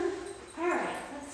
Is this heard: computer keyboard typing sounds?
no